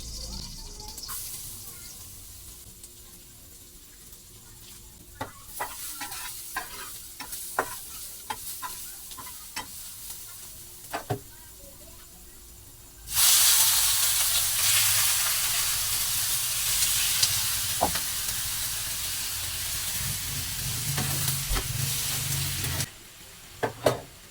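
Adobo sa asin cooking in a pot, starting with scattered stirring clicks and a soft simmer, then a loud sustained bubbling hiss after about 13 seconds that fades to a low gurgle near the end.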